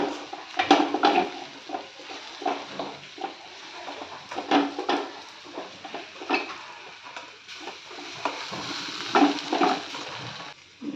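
A spoon stirs roasted, ground masala into a chicken parts curry in a pot, giving irregular scrapes and clinks with soft sizzling in between, close and fairly quiet.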